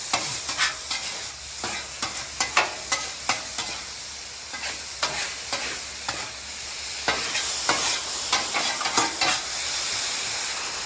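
Onions and ribeye steak sizzle loudly on a flat-top griddle, a steady close hiss broken by frequent sharp crackles and pops and the occasional scrape of a spatula stirring the food.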